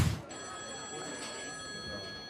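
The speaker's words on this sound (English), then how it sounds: "That sounds like a house phone." A house phone rings with a faint, steady electronic tone that holds for about two seconds after a brief noisy start.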